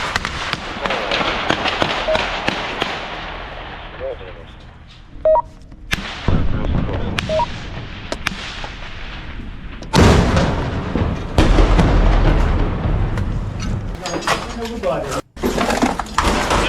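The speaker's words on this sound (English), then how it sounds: "Russian soldiers continue firing bursts from closed positions." Gunfire bursts and launcher strikes in close urban combat between Russian and Ukrainian soldiers around a damaged building, loud sharp cracks and booms repeating in irregular bursts, some near and some more distant.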